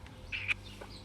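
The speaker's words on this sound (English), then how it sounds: "Oh, bird." A pet bird gives one short, faint call, a brief squawking chirp, over quiet indoor background with no talk.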